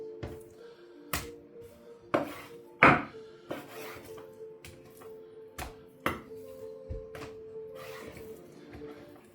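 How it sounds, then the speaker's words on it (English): A knife cutting a whole beef rump into steaks on a board, with sparse sharp chops and knocks at irregular intervals over a quiet hum, close and fairly clear. "Now out of these steaks here, I'll cut 2 out of them."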